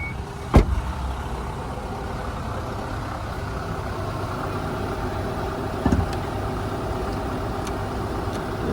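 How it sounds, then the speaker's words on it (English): A 2020 LDV T60 Pro idles with the bonnet open, giving a steady low rumble throughout and a couple of brief knocks or clunks nearby. "we'll have a look underneath the bonnet while the engine is still running for you."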